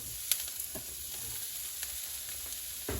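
Garlic and onion fry in hot oil for Filipino lumpiang prito, giving a faint, steady sizzle with a few small pops and stirring clinks, heard alone.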